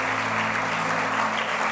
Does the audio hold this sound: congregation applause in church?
yes